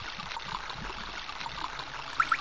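A steady wash of running water in the game Powerslave (Exhumed) trickles and gurgles at low level, continuous and close, with a couple of faint high chirps near the end.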